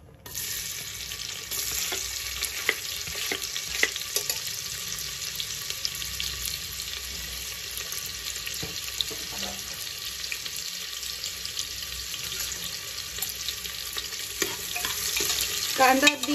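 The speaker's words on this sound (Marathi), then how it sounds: "कांदा अगदी 2 मिनिटं परतून घ्यायचा आहे" Finely chopped onion fries in two tablespoons of oil in a hot pressure cooker, with a steady close sizzle and crackle that continues throughout with no talking.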